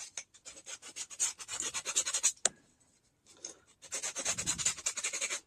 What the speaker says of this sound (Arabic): بعد القطعه بتاعتي ما نشفت زي ما قلنا هنعمل صنفره